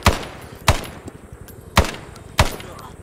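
Four sharp, loud gunshot cracks from a video game, spaced unevenly over about three seconds, each with a short decaying tail over a low background rumble.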